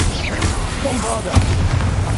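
A Bombarda spell explodes in the video game Hogwarts Legacy: a single deep boom hits about midway, with low rumbling pulses after it over a dense, steady game soundscape.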